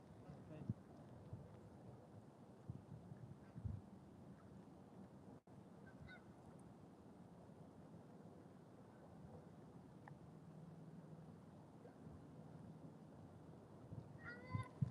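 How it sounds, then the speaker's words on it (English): Faint goose honks from geese flying overhead sound now and then from a distance over steady wind and outdoor background noise on the Mississippi River. "Them geese are flying northwest."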